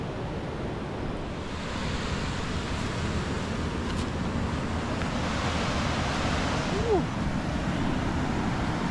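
Steady roar of ocean surf breaking and washing ashore at Dominical, a continuous wide wash of noise with gusts of wind across the microphone.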